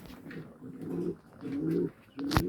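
Repeated low pigeon coos come in three throaty phrases close at hand, with short pauses between them and a sharp knock at the end; no one speaks.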